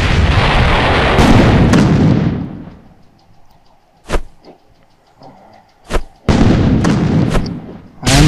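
Grenade blasts in the video game Real Dino Deadly Hunt: long roaring explosions open and close the stretch, with a few sharp bangs punctuating a quieter middle.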